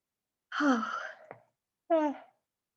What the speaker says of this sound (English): I am so sorry for all the yawning